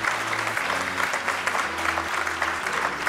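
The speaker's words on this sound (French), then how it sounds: "Donc vous pouvez vous applaudir parce que vous êtes extrêmement nombreux" Applause from a large audience of about 340 at the opening of a French straw-construction congress in Poitiers, steady and dense for the whole stretch, with a few tonal notes from background music running underneath.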